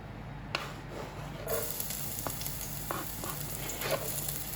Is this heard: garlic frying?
yes